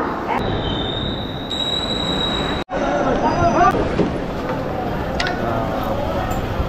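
A local train at busy Sealdah railway station rumbles along the platform, with high metallic wheel squeals and tones, a loud station din and voices talking in the background.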